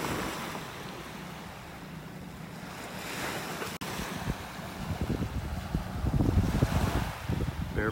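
Surf breaking on the beach at Wiggins Pass in North Naples, Florida, with steady wind buffeting the microphone, a continuous wash of waves that swells louder toward the end, no voices present.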